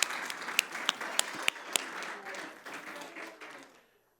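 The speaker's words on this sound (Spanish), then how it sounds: "un aplauso también a los hombres" A church congregation applauds briefly, with a few sharp individual claps standing out over the general patter. The applause is fairly quiet and fades away to silence within a few seconds.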